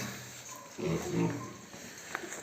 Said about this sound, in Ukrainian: Купив сьогодні поросят.